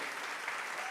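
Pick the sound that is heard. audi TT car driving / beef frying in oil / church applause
church applause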